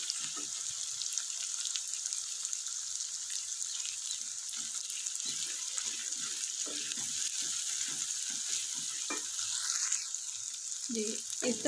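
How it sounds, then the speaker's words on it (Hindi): Chopped onions frying in a pan for chicken white karahi, cooked only until soft and lightly golden: a steady, even hiss of sizzling oil runs throughout, with occasional soft clinks and stirring scrapes over it. "प्याज मैंने ऐड कर दी है। इसको गोल्डन ब्राउन थोड़ा सा ऐसे ही करना"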